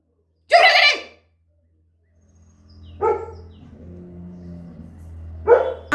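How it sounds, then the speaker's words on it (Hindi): A pet dog named Leo barks in three loud, close bursts separated by pauses, with a low whimpering whine between the second and third barks; no talking. "ज़्यादा भौंको यहाँ पे"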